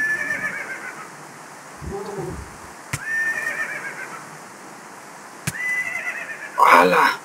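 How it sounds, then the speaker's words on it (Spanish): A flying horse (pegasus) in Minecraft lets out several shrill whinnies at close range, the loudest burst coming at the end, with a few sharp clicks between them. "Ese caballo se ve chido, güey, volador"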